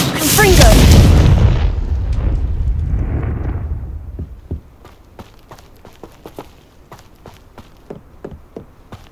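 Confringo spell explosions in Hogwarts Legacy on Xbox Series S: a loud, close blast rolling into a long rumble, then a scatter of sharp crackling pops and small debris hits fading away.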